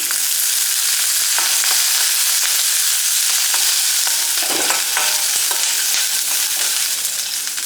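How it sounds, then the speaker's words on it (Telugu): Amla pieces frying in a small splash of oil give a steady, dense sizzle, with frequent scraping strokes as a spoon stirs them around the pan. "కొద్దిగా నూనె పోసుకొని ఫ్రై చేసుకుందాం"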